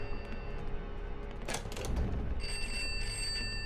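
A telephone in the video game Pineview Drive rings steadily with a bright electronic tone, fairly faint against a low background hum, with no one speaking.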